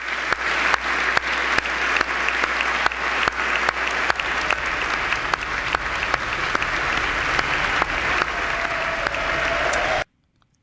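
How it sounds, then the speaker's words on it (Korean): Long, sustained applause fills a large hall after a presidential speech, many hands clapping steadily at an even level for about ten seconds before stopping abruptly. "박수 소리는 유난히 유난히 유난히 길었습니다"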